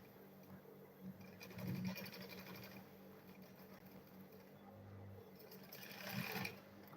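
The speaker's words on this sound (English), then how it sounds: "Then I'll sew it round" A sewing machine stitches around a school bag in quick bursts of rapid mechanical chatter with short pauses between runs, faint and close by.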